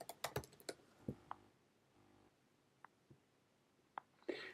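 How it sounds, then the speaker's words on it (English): A computer keyboard being typed on, quick close clicks in a short burst at the start, then a few scattered single key taps in a quiet room. "bear with me guys, my keyboard's acting a little bit strange."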